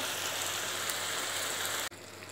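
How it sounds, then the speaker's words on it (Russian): Green beans and peeled, finely chopped tomatoes stew together in a pan for Georgian green lobio. A steady, even bubbling hiss fills the moment, dips sharply near the end, then resumes slightly quieter. "Пускай все это вместе потушится немножко."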